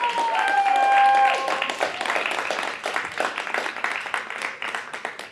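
An audience applauds loudly at first, the clapping thinning out over a few seconds while people cheer and talk.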